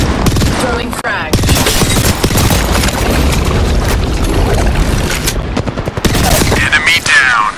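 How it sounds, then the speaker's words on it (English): A frag grenade is thrown and explodes in Apex Legends amid a loud, chaotic firefight, with heavy booms and rapid gunfire throughout and sharp blasts near the start and end. "Throwing frag."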